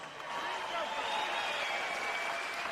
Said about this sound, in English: How about a big round of applause for these 2 amazing warriors?